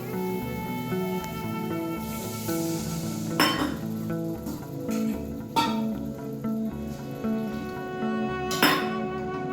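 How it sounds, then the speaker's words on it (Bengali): Spice paste for a vegetarian pointed gourd (potol) kosha is stirred and sautéed in a pan. A spatula clinks and scrapes against the metal repeatedly, with a steady musical backing running underneath. "দিয়ে মশলাটাকে খুব ভালোভাবে কষিয়ে নেব"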